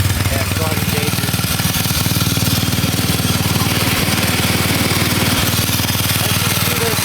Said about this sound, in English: As you can see, there's some drive shaft vibration for the tiller.